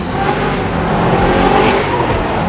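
Formula Drift race cars at Long Beach scream through a drift with loud, sustained tire squeal over roaring engines, dense and close throughout.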